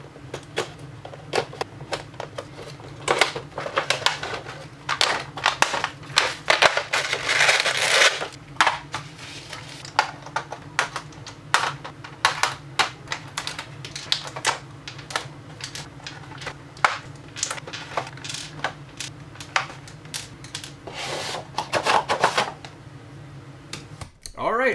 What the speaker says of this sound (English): crack this baby open, get him out of the package